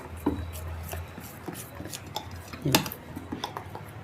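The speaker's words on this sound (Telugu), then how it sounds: "ఈ గరిటె తీసేసుకుని దీన్ని ఇలా కలిపేసి ఒకసారి" A metal ladle stirs ghee in a pan while a jaggery coconut roti is being made, giving close, irregular scrapes and clinks against the pan with a few heavier knocks.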